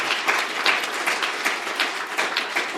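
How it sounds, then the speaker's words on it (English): An audience at a climate crisis panel discussion applauds an answer, a moderate, fairly sparse clapping with distinct individual claps pulsing unevenly throughout, no voices over it. "I don't think we could applaud all the answers, but that one certainly deserves some."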